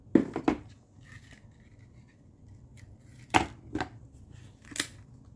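Snips of scissors cutting through Stampin' Up! designer paper while making a handmade card, a quick cluster of three crisp cuts, then two more spaced apart, close and fairly soft in a quiet room.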